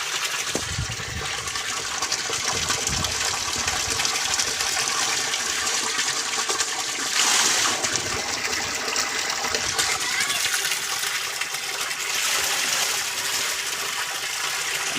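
Water gushes steadily from a 5 HP submersible borewell pump, a loud continuous rushing wash that holds level for the whole stretch, swelling briefly near the middle.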